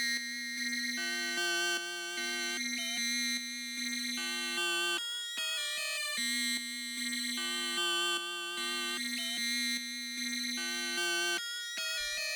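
A bright, buzzy synth lead plays a repeating melodic phrase with wavering, slightly out-of-tune pitch, steady and fairly quiet, with no voices.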